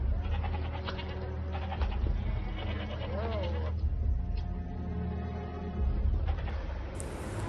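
Sheep bleat repeatedly on a bridge in a film scene, mixed with livestock calls and a busy background, moderately loud throughout.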